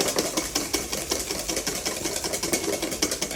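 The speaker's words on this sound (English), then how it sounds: "a little bit more sugar, and we whisk this up" Meringue of egg white, sugar and corn flour is whisked hard, making a fast rhythmic whir and clatter that stays loud and continuous with no voices.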